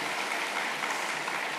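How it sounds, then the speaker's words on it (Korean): A congregation applauds the Gagopa choir after a hymn at an evening summer camp service, a soft, even wash of clapping with no gaps. "큰 박수 부탁드리겠습니다"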